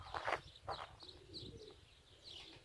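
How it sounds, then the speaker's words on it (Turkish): Domestic pigeons in a loft coo softly, with a few low murmuring calls and light chirps close by, faint over a dull background rumble. "Güvercinlerimiz bu şekilde."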